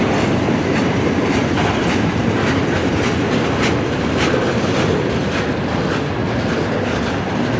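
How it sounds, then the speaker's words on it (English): A long CN mixed freight train rolls steadily past at close range, loud and continuous, with rumbling wheels and rhythmic clickety-clack over rail joints and no talking. "That is a big train, holy cow."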